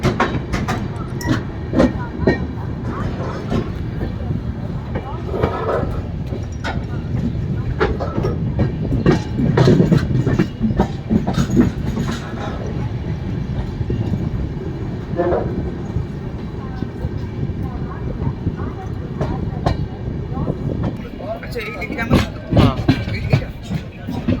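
The Darjeeling Mail train rumbles steadily along the tracks, with rhythmic clicks and rattles of the carriages throughout, loud and close.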